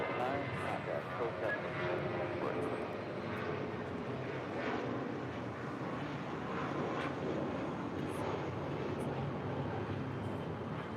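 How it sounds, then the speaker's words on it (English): Spirit Airlines Airbus A320 taking off from runway 25 at LAX, a broad, steady jet engine roar sustained at close range throughout, with no voices over it. "That was Spirit Airlines flight 709 heading to Detroit, Michigan on that A320."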